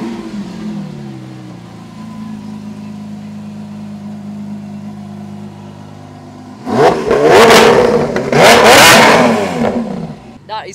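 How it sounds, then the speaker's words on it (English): A Lamborghini Aventador SVJ engine idles with a low, even rumble, then roars through two sharp, loud revs before easing back down. "Who doesn't want to hear a Lamborghini SVJ?"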